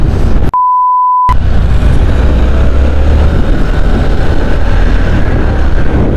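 A steady, loud Harley-Davidson Sportster S engine drone on a test ride, close and continuous after a brief censor beep near the start.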